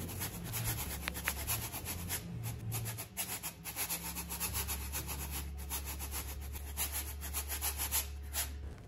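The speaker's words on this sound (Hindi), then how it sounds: "इसकी आवाज़ आवाज़ भी आप सुनेंगे कि देखिए कितनी क्रिस्पी सी हैं" Continuous dense crunching and scraping close up, a steady crisp rustle with no talking, as crispy fried potato nuggets are broken apart.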